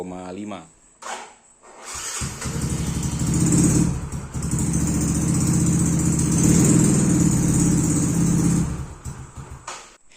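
Yamaha X-Ride motorcycle engine cranks briefly with the electric starter, catches, and settles into a steady, slightly uneven idle close by for several seconds before the throttle drops off near the end.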